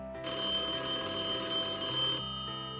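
Office telephones ring continuously in a steady, loud, bell-like trill that holds for a couple of seconds before easing off, with no voices.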